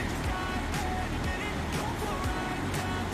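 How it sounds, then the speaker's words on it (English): Water rushing through a gorge in New Zealand, a dense continuous roar that fills the whole stretch evenly, close and loud, with no talk over it. "Rushing water all through there."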